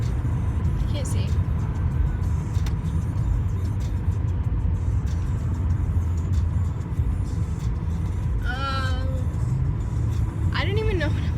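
A car cruises along a highway with a steady, loud engine and road rumble throughout, while voices rise briefly over the drone inside the cabin.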